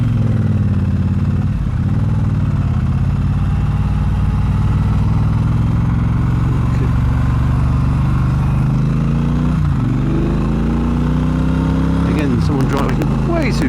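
A 2022 Triumph Bobber motorcycle's engine drones on the road, its pitch rising and falling through several gear changes amid steady wind rush.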